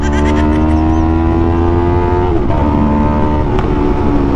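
A Yamaha R3 motorcycle with a remapped ECU is ridden hard on the road. The engine drones loud and close with a strong, steady tone, and its pitch shifts briefly midway.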